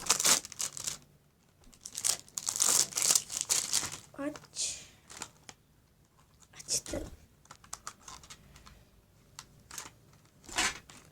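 Packaging for an electronic speed controller is opened, with close, loose bursts of crinkling and tearing plastic and cardboard in quick rustling clusters, while someone speaks quietly between them.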